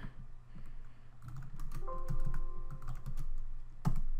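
Typing the name of a Wi-Fi network on a computer keyboard while setting up a BeagleBone Black Wireless board; steady close key clicks run through most of the clip with a sharper keystroke near the end.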